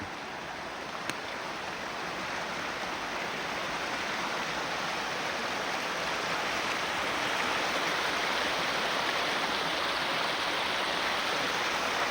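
Continuous rushing of a small flowing stream, a steady broadband wash that swells slightly over time, with no voices or other sounds.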